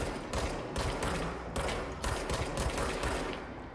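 Rapid, dense bursts of gunfire from a recharging-ammo gun in the video game Control, fired in quick volleys with brief gaps, loud and close with no talking.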